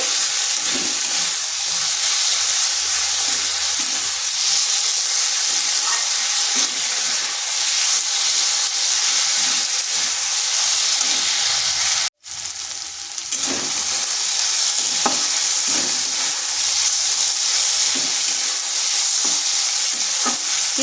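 Potatoes fry loudly in a pan with a dense, continuous sizzle and hiss, plus soft scraping from stirring and one brief dropout partway through.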